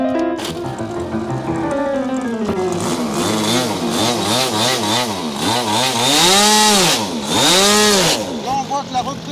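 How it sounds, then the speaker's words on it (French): A small glow-plug model engine starts and runs while its idle needle is adjusted, the buzzing pitch rising and falling in repeated sweeps as it revs up and drops back, loud and close. "On va refaire le démarrage."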